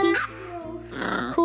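A dog gives short, close barks and yips with a growly edge, loud and bursting out in quick succession.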